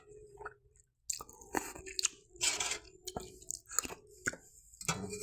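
Close, wet chewing and crunching of a Chinese-style dish with gravy during a food review, in repeated bursts of bites and mastication separated by short pauses, with no talking.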